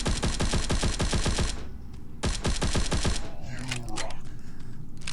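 Rapid bursts of machine gun fire in the mobile shooter Guns of Boom, two long rattling volleys separated by a brief pause, followed by scattered shots and game effects.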